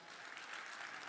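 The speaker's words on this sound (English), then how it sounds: "We're getting claps on our podcast." Applause breaks out during a podcast conversation, a steady patter of many hands clapping together at a very low level, even throughout with no voices over it.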